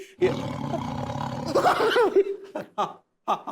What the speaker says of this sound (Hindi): बहुत ही जोर का दहाड़ा है